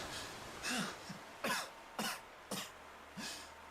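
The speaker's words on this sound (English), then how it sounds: "Could you try coughing quietly?" A character in the game Tales of Xillia coughs repeatedly, about six rough, hacking coughs in an uneven rhythm with throat-clearing, close and fairly loud, with no talking.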